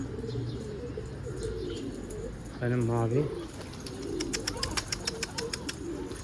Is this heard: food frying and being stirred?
no